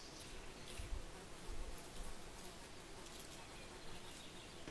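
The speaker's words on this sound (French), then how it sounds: "C'est pas vrai, il y a encore une mouche." A housefly drones faintly and steadily indoors beside a paper card-crafting table, a thin continuous buzz with a couple of slightly louder passes and no voices.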